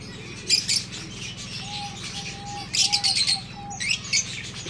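Chirps and tweets from birds in a dove aviary holding white, diamond and silver doves, coming in a few short bursts over a low steady hum, with faint soft tonal calls between them.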